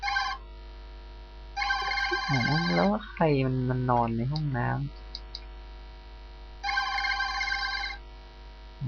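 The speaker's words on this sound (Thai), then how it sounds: "ตกใจเสียงโทรศัพท์นั่นแหละ" A telephone rings in a horror video game, two bursts of trilling electronic ringing set well apart, with someone talking loudly between them.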